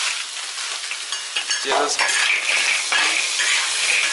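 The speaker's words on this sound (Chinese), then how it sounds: "炒，现在再炒一下" River snails are stir-fried in a wok with salt and spices, loud close sizzling mixed with rattling shells and scraping of a spatula against the metal, tossed in bursts, with a brief spoken word.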